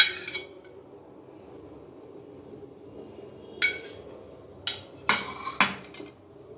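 A spoon stirs chicken into a pot of chicken vegetable soup, giving a few sharp metallic clinks against the pot, spaced apart and clustered toward the end, over a quiet background.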